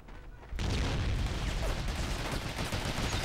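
Gunfire in the World War II shooter game Medal of Honor: European Assault, with a sudden burst of loud, dense automatic shooting and rumbling blasts that continues steadily and fills the whole soundscape after a quieter opening.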